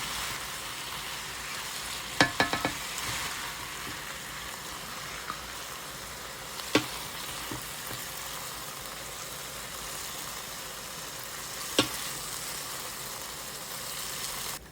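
Pork sizzles steadily in a hot pan, a continuous crackling hiss broken by a few sharp clinks of a utensil against the pan.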